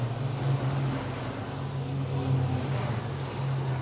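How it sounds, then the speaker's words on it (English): Racing trucks in an FIA European Truck Racing Championship event at Zolder drive along the back straight, heard from a distance. Their engines make a sustained, steady low drone. "the trucks are coming on the reverse straight, the back straight of the circuit"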